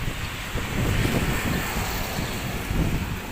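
Steady wind roaring and buffeting the microphone at Manila Bay, a low rumbling gust noise that swells and eases continuously with no voices.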